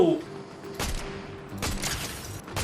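Gunfire in Fortnite, a couple of sharp bursts of shots at moderate loudness, with soft background game sounds between them.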